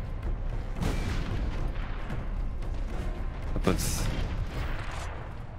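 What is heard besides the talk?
explosions in Warhammer 40k: Space Marine video game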